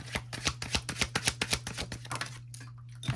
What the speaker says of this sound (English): So these cards are already flipping out of the deck.